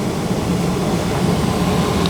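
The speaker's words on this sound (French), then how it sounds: "je pense que c'est la clim qui fait ce bruit-là" Steady air-conditioning hum fills the room, a constant broadband whir with a low drone, even and unbroken throughout with no talk over it.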